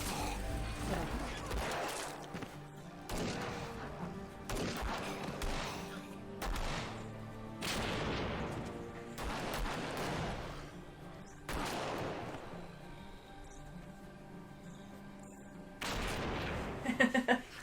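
Bursts of gunfire from a zombie drama television episode sound in a series of sharp, separated volleys, loud cracks recurring every couple of seconds over about eighteen seconds, with quieter gaps between them.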